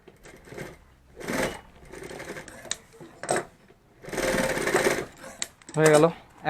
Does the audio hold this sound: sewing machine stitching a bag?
yes